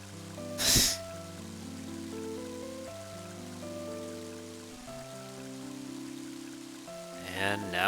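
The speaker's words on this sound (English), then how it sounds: "And now it's starting to rain." Steady rain patters softly under a gentle electronic melody in the video game Mother 3, with a brief louder burst early on and another near the end.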